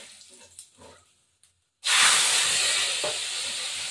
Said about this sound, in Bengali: এবার আমি এই মশলাটা দিয়ে দেবো, এই মশলাটা বাটা মশলা দিয়ে দেবো